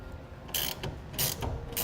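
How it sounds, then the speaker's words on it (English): A 9/16 wrench ratchets down a clamp on a BAKFlip G2 hard tonneau cover fitted to a 2014 Ford F-150. Three short bursts of quick metallic clicking sit over a quiet background, close up, with no talking. "then we can tighten it the rest of the way down with our 9/16 wrench"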